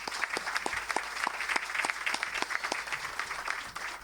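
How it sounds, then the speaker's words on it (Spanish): An audience applauding special guests at a health event, a crowd clapping steadily with some distinct nearby claps standing out, moderately loud and sustained, tapering slightly at the end. "El agradecimiento y el aplauso especial para todas y para todos ustedes."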